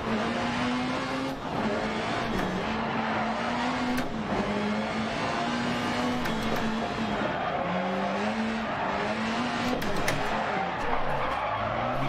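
A car in the rally game Dirt Rally braking on a hill climb, tires skidding and squealing in long wavering tones over steady engine and road noise, moderately loud and continuous.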